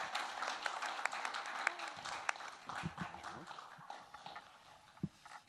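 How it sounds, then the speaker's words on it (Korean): Faint, steady applause from an audience at a policy forum on nuclear, CBRN and EMP crisis management, with a few sharper claps standing out over several seconds. "여러분 큰 박수 부탁드립니다."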